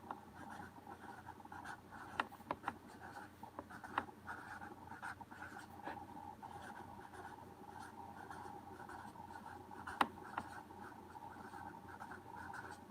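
Pen or pencil writing math notes on paper, a steady close scratching with a few sharper strokes and taps, faint and continuous with no talk.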